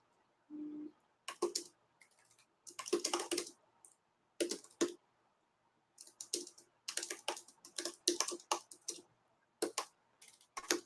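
Someone types on a computer keyboard in short, irregular bursts of quick clicking keystrokes separated by pauses, close up and quiet, with no talking.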